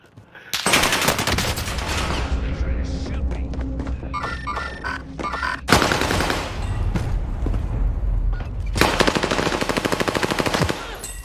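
Video game gunfire in bursts of rapid automatic fire with sustained loud volleys, plus a distinct burst near the end; a voice talks underneath.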